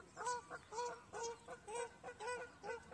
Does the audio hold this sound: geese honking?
yes